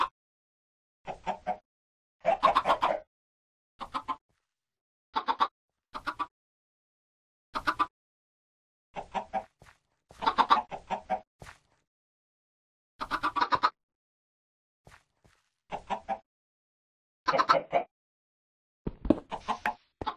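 Short bursts of clucking from chickens in a survival video game, arriving in separate clusters with silent gaps between them over about twenty seconds, fairly close and unaccompanied by any talk.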